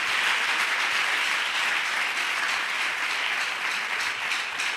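A congregation applauds at a Pentecost church service: steady, dense clapping from many hands fills the room at a constant loud level throughout, with no break.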